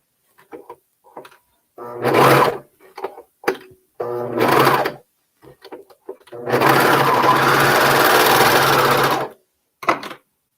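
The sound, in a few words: sewing machine stitching garment shoulders together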